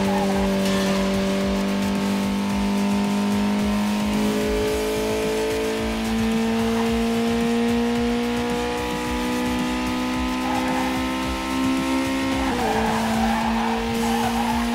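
Race car engine drone in the Ridge Racer Driftopia video game, with steady high revs and rising, shifting engine tones plus tire squeal as the car drifts through corners, loud and continuous throughout.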